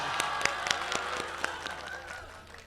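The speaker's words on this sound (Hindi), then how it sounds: "ताली बजाएं।" Audience clapping at a Hindi kavi sammelan poetry gathering in Pratapgarh, heard as a thin, scattered patter of separate claps with voices murmuring underneath, moderately faint and a little distant.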